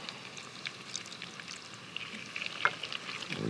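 Crayfish fry in a pan with smoked paprika and lemon juice, a soft, fairly quiet sizzle with light stirring scrapes and a few small clicks near the end.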